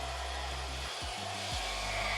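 A power tool whines steadily while it cuts 2.5 inches off the front sway bar links for a Jeep Wrangler lift kit, with two brief dips in the motor's drone partway through.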